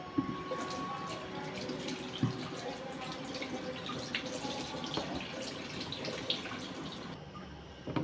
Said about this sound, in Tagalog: Tapos ng asin, babanlawan ko rin ng mainit na tubig.